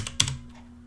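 Computer keyboard typing while entering Java code, a few quick close keystrokes clustered in a brief burst, the loudest click in the middle, then quiet.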